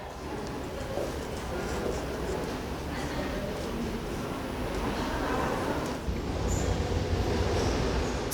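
A Seoul subway Line 2 train rumbles at a crowded platform, a steady loud roar of wheels and carriages with a brief high squeal, while people's voices murmur underneath.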